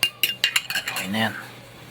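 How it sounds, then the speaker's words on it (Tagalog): A spoon clinks against the sides of a cup as a drink is stirred, with a quick series of bright metallic taps followed by a softer swirling scrape. No one speaks. "Haluin na yan."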